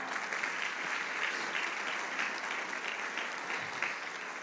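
Steady congregational applause fills a church service honoring the Lord Jesus, a dense, even wash of many hands clapping at moderate loudness without a break.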